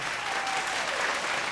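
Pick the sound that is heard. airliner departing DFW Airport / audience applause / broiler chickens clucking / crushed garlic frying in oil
audience applause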